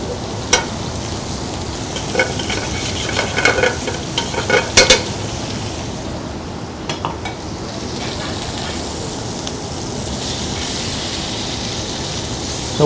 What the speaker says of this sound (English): So then I'm going to get my bacon going here.